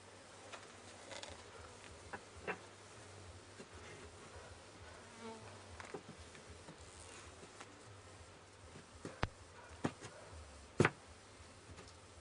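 Honeybees in a top bar hive drone and buzz steadily as they fan, a close continuous hum with scattered sharp ticks and taps near the end.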